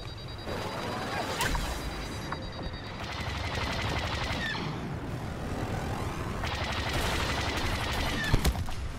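Blaster fire in Star Wars Battlefront II during an attack on a Venator's bridges: dense, rapid volleys of shots with crashes and impacts, loud and continuous, with a voice briefly heard.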